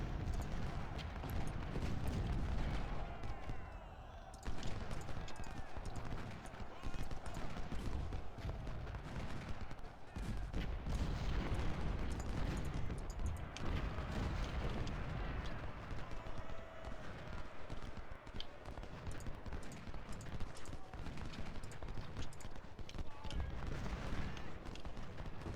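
Troops firing muskets in an American Civil War strategy game, dense continuous crackling volleys and booms layered with battle noise, loud and sustained with speech mixed in.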